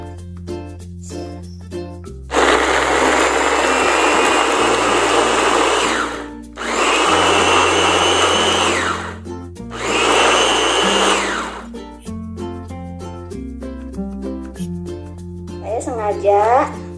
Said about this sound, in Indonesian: Ayo Bun, kita haluskan dulu bumbunya.